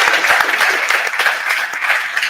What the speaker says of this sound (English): give a hand of applause to my amazing panelists